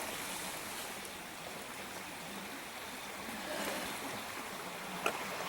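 A creek in the Great Smoky Mountains flowing in a steady, broadband rushing wash, close and continuous with no gaps, with a single faint click near the end.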